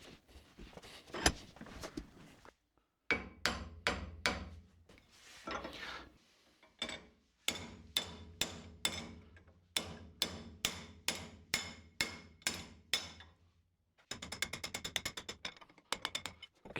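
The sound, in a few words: hammering a metal bracket to bend it in a vise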